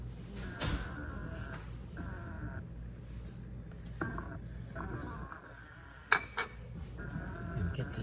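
A spoon stirs milk into banana pie filling in a pie pan, giving faint, irregular clinks and scrapes against the pan, with a couple of sharper metallic taps near the end.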